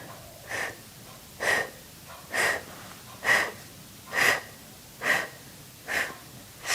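Slow, soft outward breaths in the 'fairy breaths' labor technique, gentle puffs as if not blowing out small candles; eight evenly spaced quiet exhales about one second apart, close and unvoiced, with no talking.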